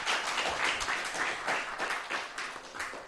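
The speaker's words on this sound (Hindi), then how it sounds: "एक बार ज़ोरदार तालियां उनके लिए।" Loud sustained audience applause at a televised Urdu cultural program, many hands clapping in a dense continuous wash with irregular swells throughout.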